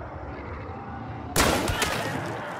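A shotgun fires once in the video game Hunt, a sudden loud blast cutting through quiet ambience and trailing off in a long echoing tail.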